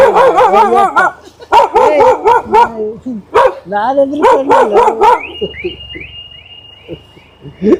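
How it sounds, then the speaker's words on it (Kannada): A dog barks outdoors at night in a rapid, loud, close series of sharp barks and yips with short pauses. A person speaks briefly, and thin high chirps follow as the barking fades. "ನಾನೆದ್ರು ಕಂಡೆ ನಾಯಿ"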